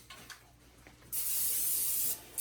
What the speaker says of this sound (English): I'm going to spray down our bread pan while they are putting stuff in the bowl.